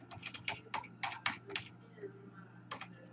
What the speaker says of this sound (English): I'm typing up this damn header card